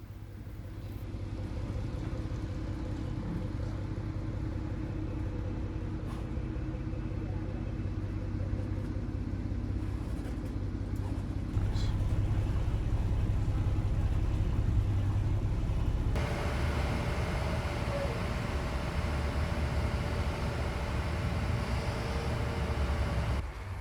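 The Silver Gate ferry's engine drones in a low, steady rumble throughout the crossing of San Diego Bay toward Coronado, with wind and water wash on top and a slight rise in the hiss late in the ride.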